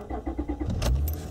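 A car engine starting with the shifter in park or neutral: a quick run of rhythmic cranking pulses, then a louder catch as it fires and settles into a low idle, all close by.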